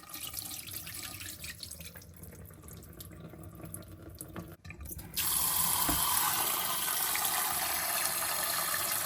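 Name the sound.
washing soaked lentils in water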